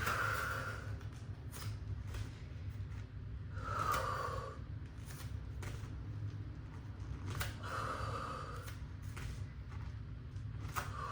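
A person does a breathing exercise for hip flexor balance, with slow, close inhales and exhales repeating about every three to four seconds. The breaths come through a steady background hum.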